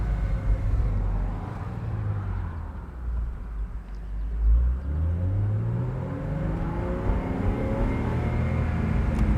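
A 2001 Porsche Boxster S pulls at full throttle, its intake and engine note rising in pitch, dipping briefly at a shift, then climbing again in a loud, close, continuous sweep with no talking.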